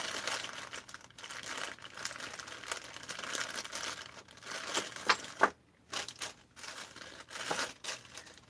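Parts are torn off a 272XP chainsaw in irregular bursts of crinkling, tearing and crunching, with some louder snaps near the middle and a short quiet gap after them.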